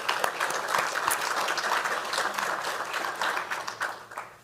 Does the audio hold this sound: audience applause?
yes